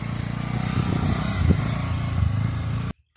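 A motorcycle ridden through a river drones with a loud, steady engine note close by, rising slightly midway, then cuts off abruptly into silence at the end.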